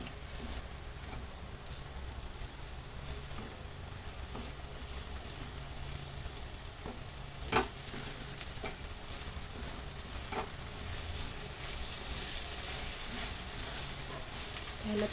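Homemade masala spices roast in hot oil with tomato for a dried fish sukat bhaji, a steady soft sizzle and frying crackle with a few sharper stirring clicks.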